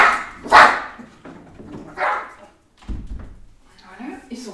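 A dog barks a few times nearby in a home, short sharp bursts separated by pauses, with a person talking around them.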